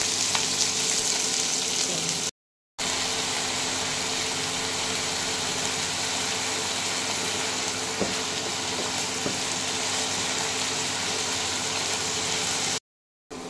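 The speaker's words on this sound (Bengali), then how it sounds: "ভালো করে এটাকে ভেজে নেবেন।" Potatoes fry in oil with chopped onion and green chillies, making a continuous close sizzle and crackle broken by two short silent cuts. No talk is heard.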